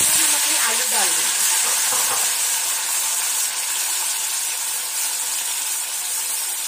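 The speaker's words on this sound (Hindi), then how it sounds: "देखिए तेल कितना गर्म था, जीरा चला गया, आलू डाल देंगे।" Cumin seeds and potato pieces frying in very hot oil in a pan, a dense continuous sizzle and crackle with steady hissing close up, slightly busier at the start before settling.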